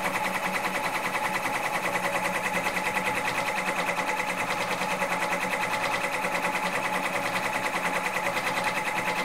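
An embroidery machine stitches out a left chest logo at a fast, steady pace, its needle producing an even, rapid mechanical chatter that runs continuously and alone at moderate loudness.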